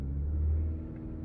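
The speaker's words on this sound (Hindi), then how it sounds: "यूं आवाज आई ना इंजन की" A parked car's engine gives a steady low rumble as the accelerator is pressed lightly, a soft, near hum that eases off toward the end.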